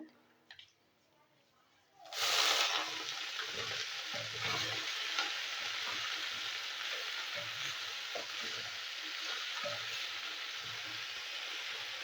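Bathua greens drop into hot spiced oil in a home kitchen, setting off a sudden loud sizzle that settles into a continuous frying crackle with occasional stirring.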